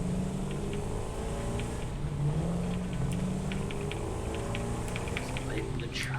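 A truck engine in Satisfactory drones steadily with a low, continuous hum that rises slightly in pitch midway, accompanied by faint ticking clicks from the surrounding factory.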